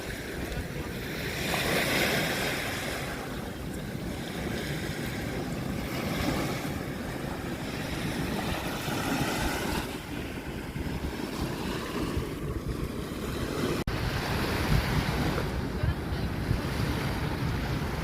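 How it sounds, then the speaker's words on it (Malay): Sea waves roll and wash steadily at Cherating beach while strong wind buffets the microphone, a dense continuous roar with gentle swells and no clear pauses. "Tengok laut."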